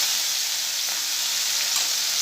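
Ginger-chili paste frying in hot oil with curry leaves and asafoetida for a green corn chevdo, a steady close sizzle and hiss that holds evenly throughout with no voices.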